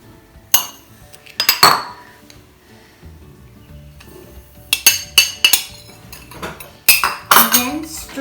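Metal spoon clinking and scraping against a bowl while cookie dough of butter, brown sugar and white sugar is stirred, with bursts of sharp clatter separated by brief pauses, close and clear.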